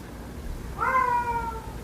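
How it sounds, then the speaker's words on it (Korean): A sick house cat gives a single clear, drawn-out meow at close range, rising then tapering off over quiet room tone. "저희 집 고양이가 좀 아파가지고 제가 떼쟁이로 키웠더니 저렇게"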